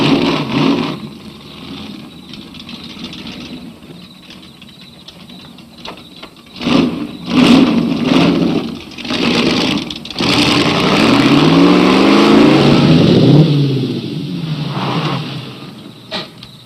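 A Model A car engine revs and accelerates, surging in several loud bursts with rising pitch sweeps after a quieter idle-like stretch, heard close and dominant.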